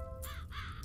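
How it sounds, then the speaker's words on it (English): A raven in the video game The Count Lucanor gives a single harsh caw, short and fairly faint against a low background hum, with no talking. "Raven."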